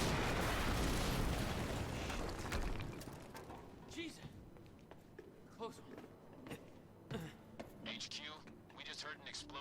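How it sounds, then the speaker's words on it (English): An explosion in the video game Quantum Break bursts as a loud, broad roar that decays over a couple of seconds, followed by scattered debris clatter and quieter game sounds. "just heard an explosion near the harvesting perimeter."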